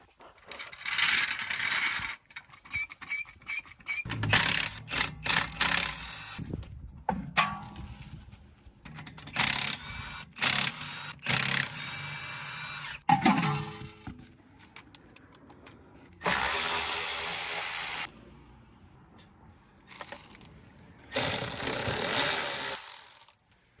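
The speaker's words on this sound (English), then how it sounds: "So we're gonna have to take off this bumper really quick." A ratchet working on the fasteners of a car bumper during its removal, with bursts of fast clicking pawl action between pauses and tool handling, close and fairly loud.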